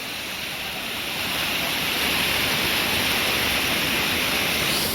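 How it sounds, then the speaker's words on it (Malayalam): A waterfall in Kozhikode district, Kerala, pours strongly in a dense, continuous roar of rushing water that swells slightly in the first seconds, then holds loud and steady with no voices. "ഇപ്പോൾ നല്ല ശക്തിയിൽ വെള്ളം വരുന്നൊക്കെ ഉണ്ട്."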